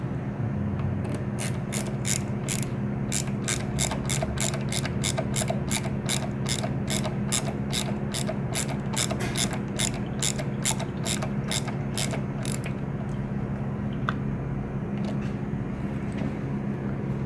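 A hand ratchet clicks rapidly and evenly for about twelve seconds while snugging the mounting bolts of aftermarket rear sets on a 2018 BMW S1000RR, close and clear in a quiet garage, then goes silent.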